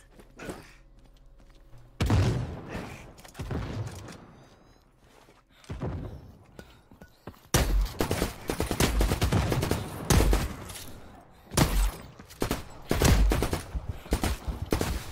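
Gunfire in The Cycle: Frontier, shotgun blasts and bursts of shots exchanged in a firefight, loud sharp reports in clusters separated by quieter gaps and scattered footsteps.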